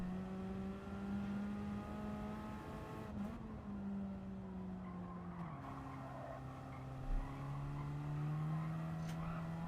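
Race car engine in Gran Turismo 7 on a time trial lap, a steady high whine that rises, dips sharply on a lift, then climbs again, with a brief tire scrub and no talk.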